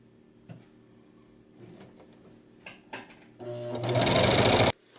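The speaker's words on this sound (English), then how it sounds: "when I run it under my sewing machine" A home sewing machine stitches a fabric face mask: quiet handling clicks and rustles, then a loud, rapid, even whir of stitching for about a second before it stops abruptly.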